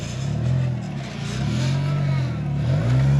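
A 4-wheel steering crawler buggy works off-road at Frogstompers OHV, its engine droning and revving steadily up and down close by, with no talk over it.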